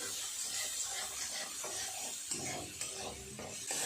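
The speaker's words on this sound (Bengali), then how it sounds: "খুব ভালো করে সমস্ত কিছু এইভাবে একটু কষিয়ে নেব যতক্ষণ না তেল ছাড়ে" Onion, ginger and garlic masala is stir-fried in oil for rajma, with rhythmic rasping scrapes of a spatula over a low, soft sizzle, close up and fairly quiet.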